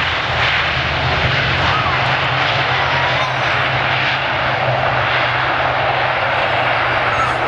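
An Aer Lingus airliner at Manchester Airport gives a continuous, loud engine roar with a low droning hum underneath. The roar stays even in level and character throughout, with no voices over it.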